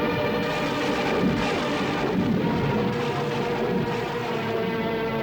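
A steady, dense rumble of thunder from a roaring storm cloud fills the whole stretch, continuous and loud with no pause, broadband and booming rather than distinct cracks.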